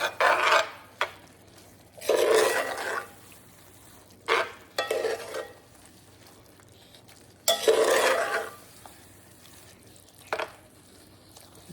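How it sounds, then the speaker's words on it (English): Pre-cooked pasta noodles are stirred in a pan, with several loud bursts of scraping and sizzling stirring separated by quieter pauses, close up and without speech. "I'm gonna add my pre-cooked pasta noodles. I'm just gonna put those right in the package, or right in the pan."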